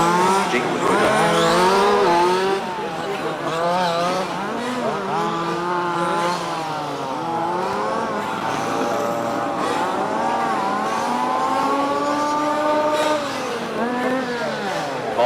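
Several race cars in a Spec 5 class race roar around the track on their final lap, engines droning and revving continuously with rising and falling pitch, loud and close throughout.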